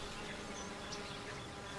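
Honey bees forage among flowers with a continuous, busy buzzing. The hum is even and unbroken, with no voices.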